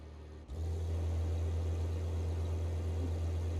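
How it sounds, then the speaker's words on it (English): A car engine in the BeamNG.drive driving game starts after a brief hiss and settles into a steady, loud, low idle drone that continues alone to the end. "I want to shut off that engine because it's too loud."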